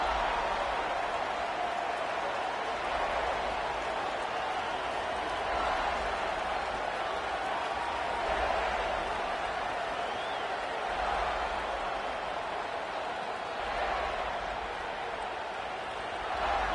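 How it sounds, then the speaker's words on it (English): A college football video game's stadium crowd keeps up a steady, dense roar throughout, with broad murmuring swells and no clear cheers or claps standing out. "This crowd ready to make its presence known."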